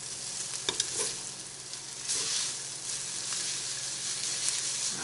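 Onions sizzle loudly in a frying pan for a quick, cheap Chinese-style noodle dish, a steady hissing fry with a few sharp clatters near the start as they land and get stirred.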